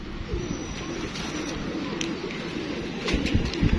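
Indian pigeons coo nearby in soft, repeated throaty calls, with faint outdoor background noise and no talking.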